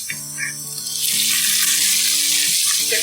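Chicken pieces dropped into a hot pan for pasta, a loud spreading sizzle that swells after the first second and holds steady and close, with a few faint clinks at the start.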